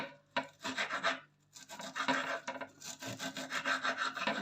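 Knife cutting through herb stems on a board, heard as close, rough scraping and slicing strokes in short bursts with brief pauses between them.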